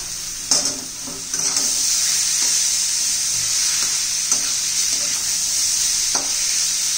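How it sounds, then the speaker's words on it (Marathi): Grated radish thecha stirred in a frying pan, a steady loud sizzle with scraping spoon strokes at intervals, close and alone with no voices. "आता ठेचा घालून घेऊया आपण। व्यवस्थित असं हलवून घेऊया आता।"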